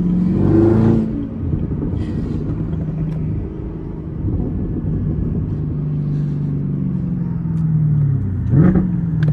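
A cammed Chevrolet Corvette C6 engine idles with a deep, steady lumpy rumble, opening and closing with brief revving swells, heard close and loud with no talk.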